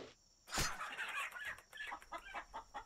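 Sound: hen clucking in Legend of Mir video game

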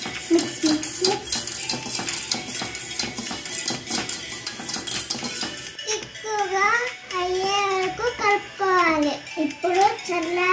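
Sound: stirring fruit salad into milk

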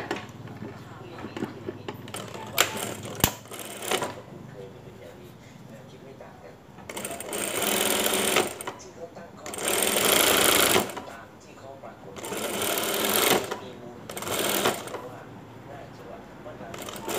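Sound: sewing machine stitching a dress

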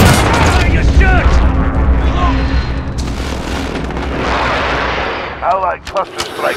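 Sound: allied cluster strike explosions in video game Call of Duty: Modern Warfare

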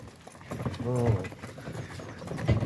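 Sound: horse hooves clip-clopping

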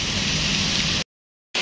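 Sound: heavy rain at a bus terminal

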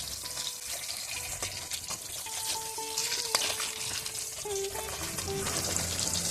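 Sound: beef sautéing in oil used for frying onions

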